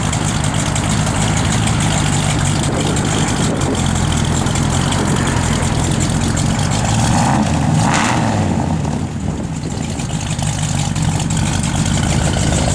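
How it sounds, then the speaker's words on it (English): A 1966 Chevrolet Chevelle convertible's V8 idles loudly and close by, with a deep, lumpy cam rumble that stays steady throughout, no voices over it. "You can hear that cam working."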